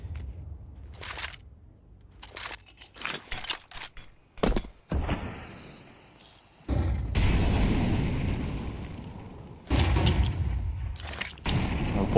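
Counter-Strike grenade blasts and heavy impacts at a pro match, several loud booming bursts and thuds scattered irregularly, some short and sharp, others longer rumbling roars.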